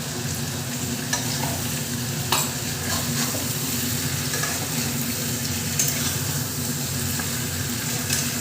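Meat frying in a pan while being stirred, a steady close sizzle broken by scraping and clanking of the utensil against the pan.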